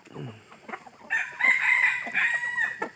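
A Thai jungle fowl rooster crows once, a loud drawn-out call nearby, preceded by a few soft clucks.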